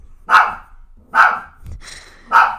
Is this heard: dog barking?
yes